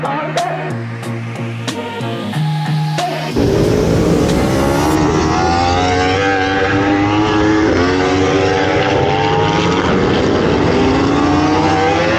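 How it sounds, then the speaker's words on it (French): A race car at the Le Vigeant circuit accelerates hard, its engine note climbing through rapid, quick gear shifts, loud and close; music plays over the first few seconds before the engine takes over. "J'ai l'impression qu'il passe très vite les vitesses."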